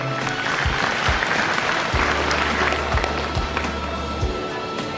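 Students and guests clap at a school certificate and prize ceremony, a loud, busy burst of applause with occasional low thumps, steady from start to finish.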